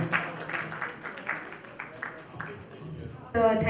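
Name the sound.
audience applause welcoming a singer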